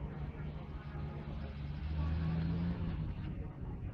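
A vintage car built in 1976, with a 2500 cc, 100 hp engine, pulls away at an oldtimer rally, its engine a steady low rumble close by amid crowd noise and talk.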